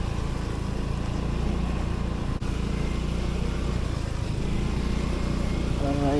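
A motorcycle engine drones steadily and loudly, straining at night on a muddy rural farm road, with a constant low hum and no letup across the whole stretch.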